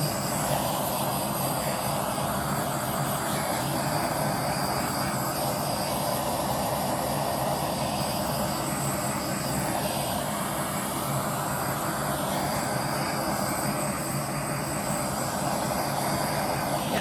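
A heat tool blows hot air steadily over poured resin mixed with paint and Floetrol, making a continuous loud, close roaring whoosh that holds at an even level throughout with no talk.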